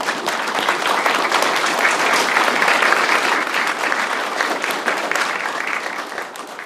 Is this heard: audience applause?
yes